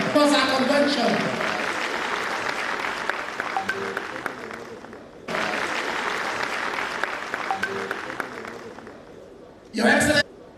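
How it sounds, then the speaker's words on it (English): A convention crowd gives loud, sustained applause for the attending diplomats, briefly dipping and swelling again, with a short voice heard near the end. "A round of applause for all the diplomats who are here to witness our convention."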